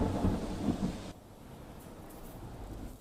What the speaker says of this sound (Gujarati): વલસાડ શહેરમાં વહેલી સવારથી ધોધમાર વરસાદ વરસી રહ્યો છે